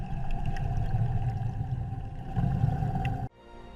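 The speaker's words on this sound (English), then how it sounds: "artificial intelligence is being used to analyze enormous collections of sperm whale vocalizations" Sperm whale vocalizations ring out as a steady, tonal underwater drone with faint clicks and a deep rumble running throughout, fairly loud, then cutting off abruptly near the end.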